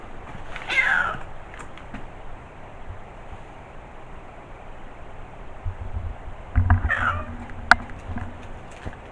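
A cat meows twice, once early and once near the end, fairly faint over a low background rumble.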